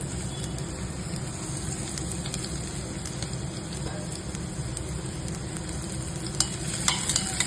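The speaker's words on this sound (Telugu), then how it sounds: "కొద్దిగా అలా ఫ్రై చేయాలండి" Onions and green chillies fry in oil in a kadai, a constant dense sizzle and crackle that holds steady throughout, with a few sharper clicks of a spoon toward the end.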